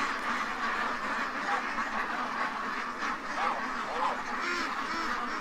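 Ducks quacking in a busy morning rush, a dense, continuous chorus of overlapping quacks and honks, close and loud throughout with no pauses.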